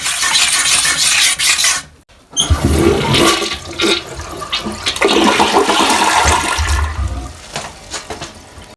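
A toilet flushes up close: a brief drop to quiet, then a loud rushing gush of water that swirls and gurgles for several seconds before gradually tapering off.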